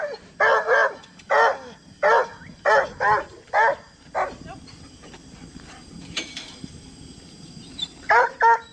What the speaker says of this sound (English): If he starts barking